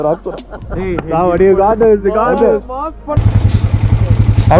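A Yezdi Scrambler motorcycle with a sensor issue idles high, its engine throbbing in steady, rapid, close pulses for the last second and a half, after someone talks over a quieter background.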